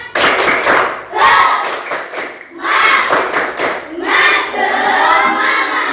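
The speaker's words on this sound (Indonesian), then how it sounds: "Sekali lagi biar semangat, tepuk semangat." Tepuk semangat, a rhythmic group clapping chant by a class of schoolchildren, loud claps in patterned bursts mixed with shouted voices, repeated in three waves.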